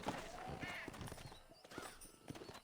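A horse in Red Dead Redemption, heard as a few hoof clops and a brief whinny, close but fairly quiet beneath game sounds and someone talking.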